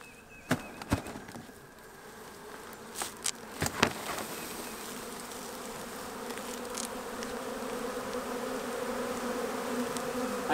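A honey bee swarm streams into a hive entrance, producing a dense, steady buzzing hum that swells slightly over time, with a few sharp taps and knocks near the start.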